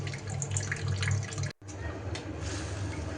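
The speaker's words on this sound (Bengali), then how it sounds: "মাছটা আমি লবণ মাখিয়ে রাখছিলাম, এখন ধুয়ে নিচ্ছি" Running tap water pours steadily over salted hilsa fish pieces in a kitchen sink, a continuous splashing wash that breaks off for a split second midway before resuming.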